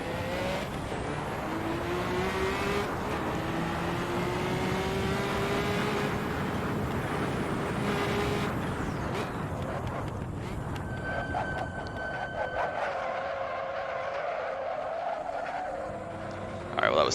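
A Porsche 917/30 race car in Assetto Corsa screams through a slow final corner, engine tones sliding up and down with tire squeal, then shifting and launching hard out the other side, loud and close.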